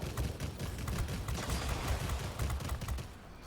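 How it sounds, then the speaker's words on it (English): Aircraft guns firing in the World of Warplanes video game, a dense rapid volley of shots rattling continuously for about three seconds, loud and close, then trailing off. "A nice volley of shots on that."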